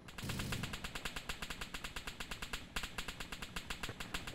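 Gunfire in a video game in a fast, even stream of sharp automatic shots, loud and continuous, with no talk over it.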